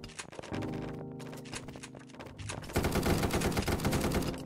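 Rapid gunfire from a competitive first-person shooter match, with shots stacked over a steady drone and a louder, denser burst of fire in the last half.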